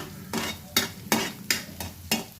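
Onions frying in a pan as they turn reddish, with about six quick, sharp stirring scrapes in a regular rhythm cutting through a soft underlying sizzle, up close and without speech.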